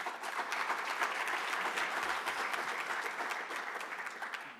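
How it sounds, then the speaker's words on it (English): An audience at the South African National Space Conference applauds a speaker, producing a sustained, even wash of many hands clapping at moderate volume that slowly tapers near the end. "Let's give a round of applause for Tebogo Mokhalagadi."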